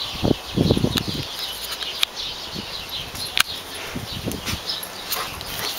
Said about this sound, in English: That is a dog and a bunny playing.